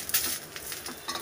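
Chennangi leaves are stirred and fried in a pan, a faint light sizzle broken by a few soft scraping stirs.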